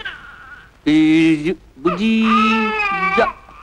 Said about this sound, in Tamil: ஏன் குழந்தை அழுகுது?